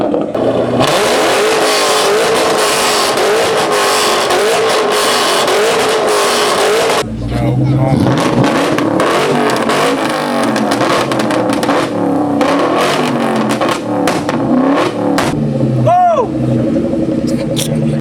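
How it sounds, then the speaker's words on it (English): A Ford Cobra GT500 roars through a burnout contest, loud sustained revving with rising and falling pitch and a brief drop before revving again, crowd voices and shouting mixed in. "Best burnout takes it."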